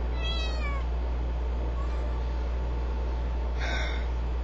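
A cat meows twice, the first a drawn-out descending call near the start and a shorter one near the end, faint and alone against a steady low hum indoors.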